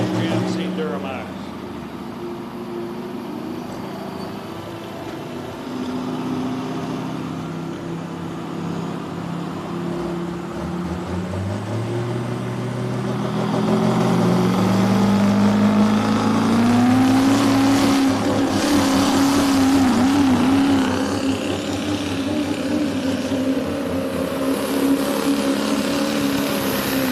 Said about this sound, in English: we've got Randy Malcolm on a GMC Duramax